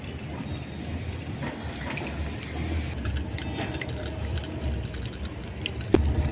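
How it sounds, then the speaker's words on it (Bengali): Nikuti, small pieces of semolina sweet dough, fry in lightly warmed oil with a steady, dense hiss throughout, and a single sharp tap near the end. "এই হালকা তেলের মধ্যে এখন আমি নিকুতিগুলো ভেজে নেব"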